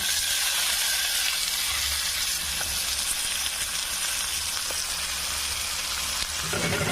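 Onion paste and chili powder fry in a pan with a steady, dense sizzle that runs close and loud, unbroken from start to finish, and no one speaks.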